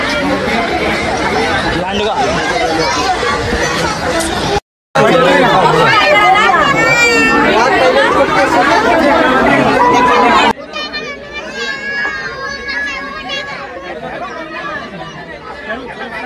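A crowd of visitors at a zoo chatters steadily, many overlapping voices forming a loud babble, with one short silent gap before it drops to a quieter murmur near the end.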